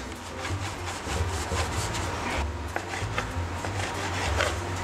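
Pasta dough for lagane is worked and rolled on a wooden board, giving a continuous dry rubbing and scraping with rhythmic strokes at close range and no talking.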